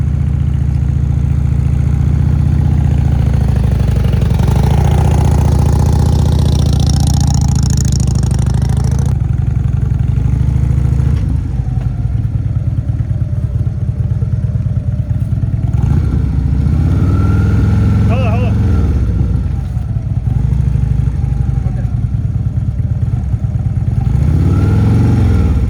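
A motorcycle engine rumbles steadily nearby, idling with a few swells of revving, loud and continuous throughout with no voices.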